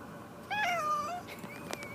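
A cat gives a short, clear meow, followed by a fainter second mew in an otherwise quiet room.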